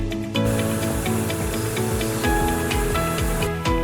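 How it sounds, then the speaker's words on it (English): A high-pressure washer, model 170A, sprays water with a continuous loud hiss over a pulsing motor drone, starting abruptly after a brief quiet moment. "install the nozzle to the spray gun to start high-pressure cleaning"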